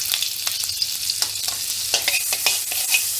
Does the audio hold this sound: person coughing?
no